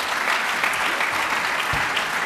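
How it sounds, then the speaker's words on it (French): A conference audience in a hall applauds steadily, a dense even wash of clapping from many hands that continues throughout without pause. "On les applaudit,"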